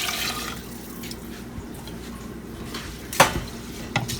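Rice, water and chicken bouillon are stirred together in a cooking pot, with soft sloshing, scraping and a few sharp clinks of a utensil against the pot.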